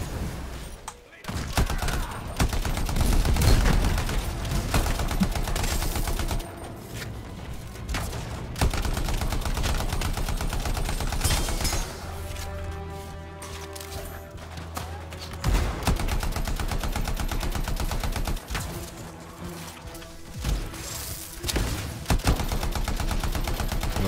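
Hostile gunfire in Anthem rattles almost without pause, rapid automatic bursts and sharp shots layered over a busy battle soundscape, loud and sustained, with a voice talking at times.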